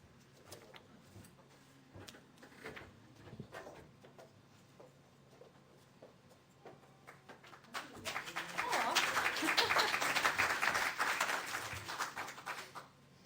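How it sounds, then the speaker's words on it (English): Clapping from a church congregation during a live-streamed service: scattered light taps and faint noises at first, then a swell of many hands applauding, louder and denser before tapering off at the end. "Y'all are clapping and I haven't even done anything yet."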